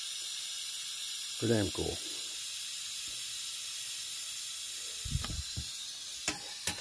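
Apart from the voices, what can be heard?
steam hissing as pressure is released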